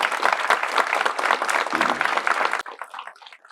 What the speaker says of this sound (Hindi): सो आप लोग एक बार जोर से सब ताली बजा दो